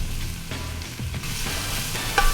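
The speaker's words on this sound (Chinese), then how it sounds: "往锅里倒油，下入刚才用剩的所有葱姜蒜末和拍扁切断的香茅" Scallion, ginger, garlic and crushed lemongrass drop into hot oil in a new wok, giving a brief close sizzle with a few stirring scrapes.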